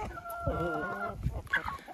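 Hens close by cluck in short, bright bursts, one drawn-out tonal call followed by quicker clucks, fairly quiet with no talk over them.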